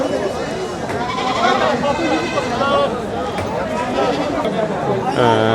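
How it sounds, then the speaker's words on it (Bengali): Kashmiri goat bleats wavering over steady crowd chatter at a goat sale, with a louder, clearer bleat near the end. "আমাদের সামনে একটি কাশ্মীর ছাগল রয়েছে"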